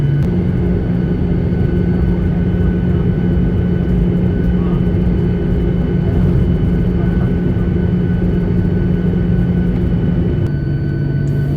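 Ryanair Boeing 737-800 cabin just after landing, a loud steady engine roar and rumble filling the cabin throughout, easing slightly near the end.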